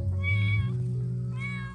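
A kitten left in the forest meows twice, close and clear, with a short drawn-out cry followed by a second one after a pause.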